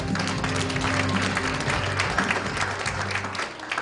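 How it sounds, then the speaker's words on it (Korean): At an inauguration ceremony for a horse industry association's leadership, an audience applauds as guests are introduced, a dense, even clatter of clapping mixed with some background hum and voices. "박수 부탁드립니다."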